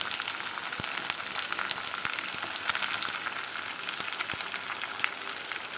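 Curry leaves and green chillies sizzle steadily in hot frying oil for a spicy fish curry, a continuous close crackling hiss with scattered sharp pops throughout and no talking.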